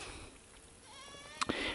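A goat in rural Jamaica lets out a couple of short, close bleats near the end, after a stretch of quiet outdoor background noise.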